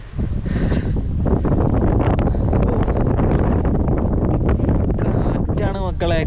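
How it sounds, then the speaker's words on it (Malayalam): Strong wind on a hill road in Kotagiri in the Nilgiris, roaring loudly and buffeting the microphone in a steady, close rush with gusty surges throughout. "കാറ്റാണ് മക്കളെ"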